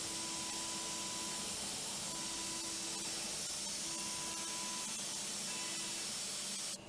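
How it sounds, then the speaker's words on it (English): Compressed air blowing metal chips off a CNC-machined part, a loud continuous hiss that holds steady for several seconds before cutting off at the end. "And I had to use compressed air"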